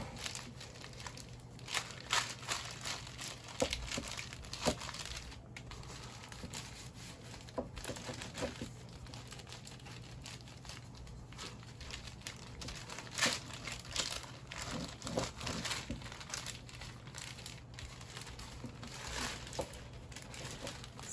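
Parchment paper crinkles and rustles in a kitchen while keto mini corndogs are being made, with steady close crackling and crumpling over a low hum and no speech.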